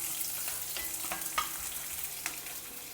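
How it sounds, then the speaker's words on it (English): Onions fry in a pan until translucent, giving a steady close sizzle with a few brief stirring clicks on top and no talking. "Just wait till the onions get translucent."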